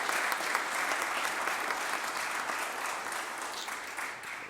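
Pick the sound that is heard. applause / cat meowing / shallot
applause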